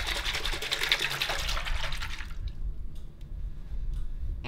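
Water with wool wash is swished and agitated by hand in a basin to raise bubbles, giving a brisk splashing wash that stops abruptly halfway, leaving quiet drips and low background hum.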